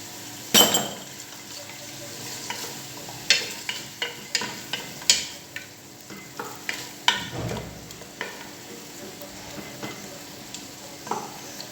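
A spoon stirs tomato paste into a peanut sauce (mafé) in a pot, making a series of sharp clinks and scrapes against the metal in an uneven rhythm over a faint simmer, close and without voices.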